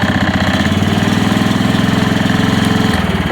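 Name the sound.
Chinese mini excavator engine starting and idling at minimum throttle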